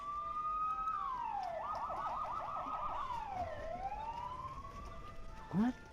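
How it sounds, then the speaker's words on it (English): Police sirens in the video game The Supper: New Blood, loud wailing and yelping tones that rise and fall over a constant background rumble, with a brief voice near the end. "I hear many sirens approaching the motel."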